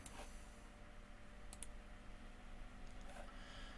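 Computer mouse double-clicked while working in a programming environment, a pair of small close clicks in quick succession over a quiet room hum, with a lone click just before.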